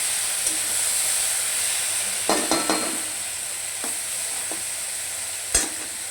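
Small kachki fish sizzle steadily in a pan of hot oil, with a few clustered scrapes and clinks as they are turned over, close and moderately loud with no talk.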